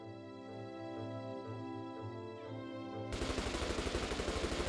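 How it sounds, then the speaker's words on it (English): Rapid gunfire in the visual novel game Rewrite+ bursts in after a sustained musical tone, a fast run of sharp crackling pops repeating evenly and fairly loud until the end. "An airy succession of pops, almost like party crackers, echoed from in front of us."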